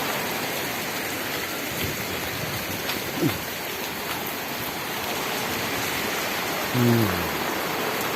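Rain falls in a steady, even, dense hiss throughout, with a couple of faint brief chirps over it.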